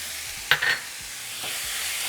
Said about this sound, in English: after 30 seconds, we're going to add our ground beef. Going to break it down.